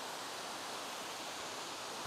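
Waterfall at Wadsworth Falls State Park, a steady broadband rush of falling water, constant and even throughout with no other sounds.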